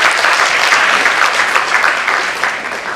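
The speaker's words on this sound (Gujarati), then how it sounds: "અમારા સોની બ્રધર્સ માટે એકવાર જોરદાર તાળીઓ થઈ જાય" Loud, dense audience applause for the Soni Brothers at a devotional evening gathering, a close, sustained wash of many hands clapping that tapers slightly at the end.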